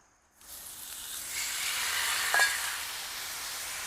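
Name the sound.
oil sizzling on a preheated Blackstone griddle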